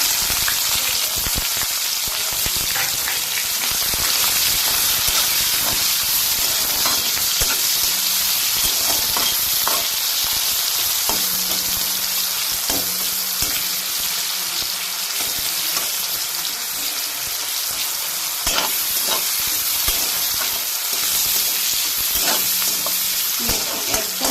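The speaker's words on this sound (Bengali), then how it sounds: "আমি যে বড় বড় দুখানা পেঁয়াজকে এরকম ছোট ছোট লম্বা লম্বা করে কেটে নিয়েছিলাম পেঁয়াজটা ঢেলে দেবো" Thinly sliced onions frying in a hot pan for a Bengali bhetki fish curry with taro and potato, a loud, steady sizzle with occasional stirring scrapes throughout.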